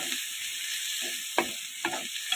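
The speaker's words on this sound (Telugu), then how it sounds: "టమాటాలు ఈ విధంగా వేసుకొని కలుపుకోవాలి" Tomatoes stirred into hot oil in a frying pan while cooking palak coconut rice: a steady close sizzle with a few sharp scraping stirs of a spoon against the pan.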